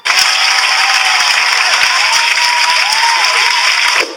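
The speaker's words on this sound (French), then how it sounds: "Ça mérite des applaudissements tout ça." Applause sound effect, a burst of dense crowd clapping and cheering at steady loudness for about four seconds before cutting off abruptly.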